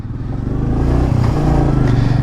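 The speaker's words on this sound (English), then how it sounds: "we're on the Meteor 350 now, and we're taking it for its first ride" A Royal Enfield Meteor 350 cruiser motorcycle pulls away on its first ride, its single-cylinder engine chugging close and loud in a rising rhythmic putter.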